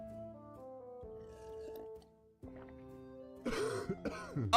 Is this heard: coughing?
yes